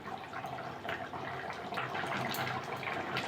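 Tilapia pieces bubbling in a taro-root curry, a steady close wet bubbling and light spattering that runs on continuously without any voices.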